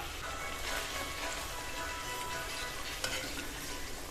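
Chicken fries over a high flame in a pan, a steady dense sizzle with scraping stir strokes, close and fairly quiet, with no talking.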